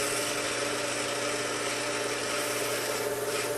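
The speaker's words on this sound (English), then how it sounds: "I'm able to do a wide variety of grinding tasks using this belt system" Work Sharp 2000KN belt grinder running steadily, a continuous motor hum with the broad rushing whir of the belt, moderately loud and unchanging.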